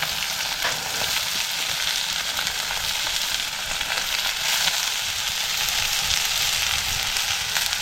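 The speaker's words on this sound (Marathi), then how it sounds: "आता आपल्याला ह्याच्यात कांदा टाकायचा आहे." Onion fries in a small amount of oil with green chili for a Konkani fenugreek-leaf dish, giving a dense, even crackling sizzle that holds steady throughout.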